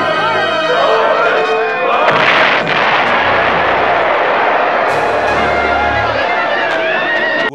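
Heavy booming blasts and crackling bursts as explosives blow open a city's gates in a TV adventure drama, a dense, loud, continuous roar layered with dramatic music and shouting.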